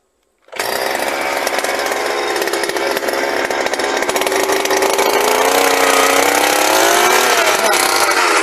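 Power drill boring into sticky, clumped soil fertilized organically, starting abruptly after a brief silence and running as a loud continuous whining motor drone that strains slightly in pitch toward the end, alone.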